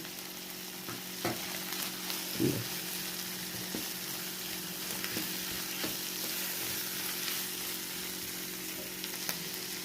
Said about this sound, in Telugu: హైలో పెట్టి ఇది బాగా టాస్ చేయాలి.